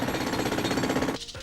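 Rapid, loud jackhammer-style drilling effect in a cartoon garden scene, a steady rattling burst that runs for about a second before cutting off abruptly.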